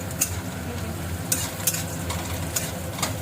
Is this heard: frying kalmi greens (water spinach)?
yes